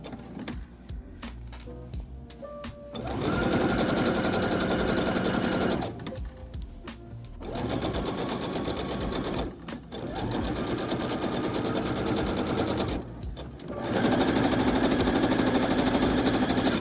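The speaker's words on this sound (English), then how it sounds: "Understitch the front pocket." Sewing machine stitching an understitch along the front pocket of a Simplicity S3230 tent dress, running in several steady mechanical bursts separated by short pauses, close and loud with no talk.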